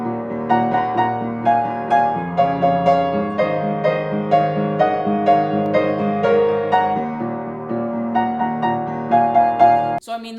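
Solo piano plays the bridge of a song, with sustained chords and a clear melody in a steady, flowing rhythm, close and alone. A brief click follows near the end.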